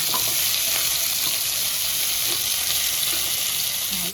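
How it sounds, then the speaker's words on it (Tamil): Onions, a mix of shallots and large onions, sauté in a pan with a steady, close, dense sizzle that holds unbroken for about four seconds, a few faint scraping stirs under it, with no talk. "வெங்காயம் நல்லா வணங்கிடுச்சு"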